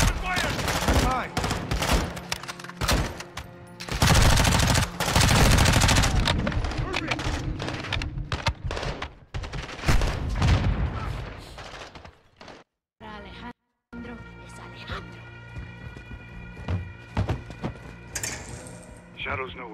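Heavy gunfire in the Call of Duty Modern Warfare II (2022) campaign: dense rifle bursts and rapid automatic fire crackle loudly, broken by short pauses and a moment of silence, with soldiers' voices shouting over the battle.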